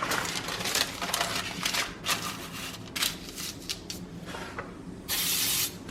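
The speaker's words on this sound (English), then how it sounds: "then I just give it a tiny little spritz" Short hissing bursts of cooking spray spritzed into a cake pan lined with parchment, several brief sprays followed by a longer, louder final spritz, close and clear with no talk.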